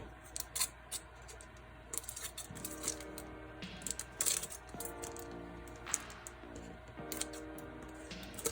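Scissors snipping off thin tin foil frills on a faux stained glass craft, a quiet close series of irregular small crisp cuts and crinkles.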